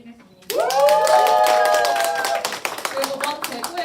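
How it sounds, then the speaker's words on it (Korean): An audience claps at a book launch celebration for a volume on uprooting prostitution, a burst of applause starting abruptly and holding loud and dense before thinning into scattered claps, with a sustained tonal sound running through the middle. "다시 한번 책 출간을 축하하며 박수 부탁드리겠습니다."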